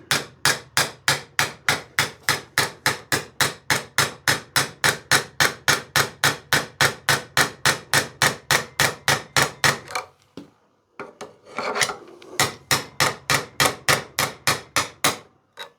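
A long screwdriver is hammered to drive the pin out of a dead nail gun's piston, with sharp, evenly spaced metallic blows for about ten seconds, a brief pause with small clanks, then another quick run of strikes.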